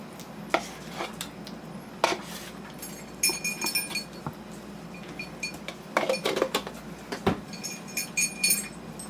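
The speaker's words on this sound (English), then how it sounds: "put that into a bowl and mix it all up really good" Cream cheese, sugar and vanilla being mixed in a bowl: irregular clinks and scraping knocks of a utensil against the bowl, close and fairly loud, with short bursts of rapid stirring between pauses.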